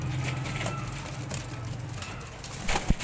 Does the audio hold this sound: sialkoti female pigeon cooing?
yes